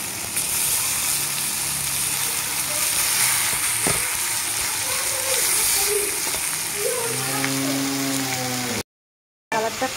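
Soya chunks going into a pan of browned fried onions, a continuous close sizzle with scraping and light clatter; near the end a louder hiss swells, then the sound cuts out briefly.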